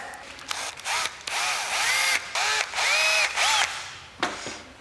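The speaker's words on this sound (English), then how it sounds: "Then use my drill, I've got a 2mm drill bit in there." A small power drill with a 2mm bit whirs in several short bursts, pitch rising and falling as it starts and stops, close and fairly loud.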